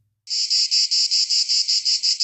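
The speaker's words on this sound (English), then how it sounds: "Yeah, the cicadas. They're out there." Insects shrill steadily outdoors at Polish Fest in Milwaukee in June, a loud, close, continuous high buzz pulsing in regular beats with no talk.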